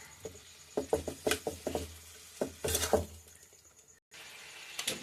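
Spice paste being stirred in a pot for chicken curry, giving a string of close, soft wet scrapes and taps in irregular bursts, with a brief silent gap near the end.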